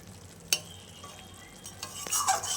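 Fish slides into a bubbling curry in a pot, giving a soft splash and clink followed by a rising hiss of sizzling and simmering, heard close and fairly quiet with no talk.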